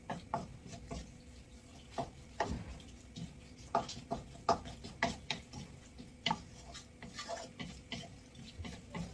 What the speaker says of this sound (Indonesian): Kita tumis terus sambil terus diaduk-aduk ya hingga bumbu berubah warna